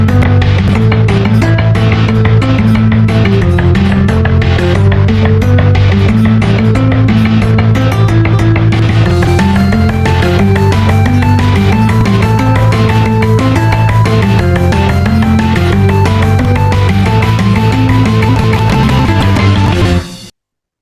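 Full verse of an anime-style opening song with bass, rhythm guitar and lead guitar over drums, a loud, dense, steady band mix that plays for about twenty seconds and then cuts off abruptly.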